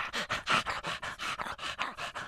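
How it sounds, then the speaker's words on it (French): A big dog pants heavily and quickly, close up, with a steady run of breathy huffs about five per second and no talking. "Le chien, le gros chien,"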